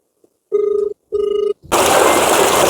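Two loud ringing bursts from a telephone, each about half a second with a short gap between, followed by a sudden wash of broadband noise.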